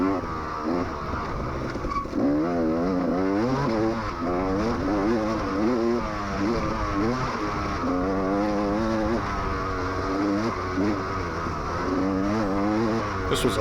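Dirt bike ridden through an enduro test section at the Black Hills Sprint Enduro, engine revving up and down in repeated surges as the rider shifts and accelerates, close and continuous.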